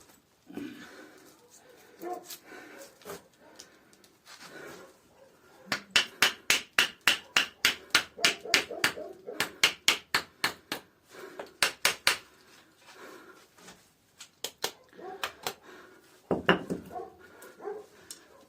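Sharp wooden knocks of a wedge being driven to split wood, a steady run of evenly spaced strikes through the middle with scattered taps before and after.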